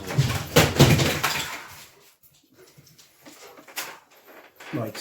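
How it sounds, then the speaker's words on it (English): Pet dogs named Sif and Roxy play nearby, with scuffling, thumps and small whimpers indoors, while a person talks briefly over the noise. "Sorry, my dogs are playing."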